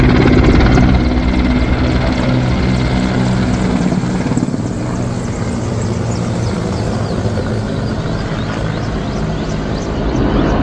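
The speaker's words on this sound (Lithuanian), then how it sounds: "Tai vis tie patys Lenkijos specialių operacijų pajėgų sraigtasparniai Mi-17" Loud, continuous rotor and engine roar of Polish special operations forces Mi-17 military helicopters over Šiauliai, close and steady throughout, with a heavy thumping drone filling the whole stretch.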